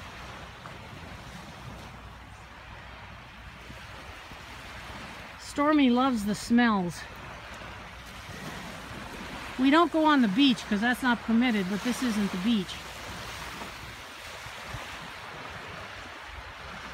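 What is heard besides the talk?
Lake Superior waves on the shoreline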